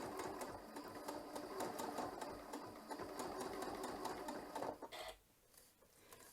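Continental M7 sewing machine stitching fabric around a curve, a fast even mechanical whirring chatter close up that runs steadily for about five seconds, then stops abruptly into quiet.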